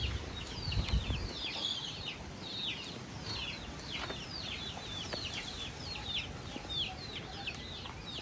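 Chickens cluck repeatedly near their new coop on a small rural property, a steady run of short calls close by over faint outdoor background noise.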